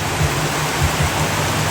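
Heavy rain pours down in cloud-covered mountains as a dense, loud, unbroken hiss with no pauses, and no one speaks over it.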